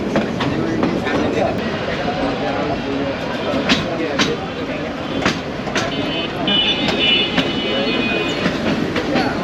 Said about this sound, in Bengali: লোকাল ট্রেনের জার্নিটা ভালোই হলো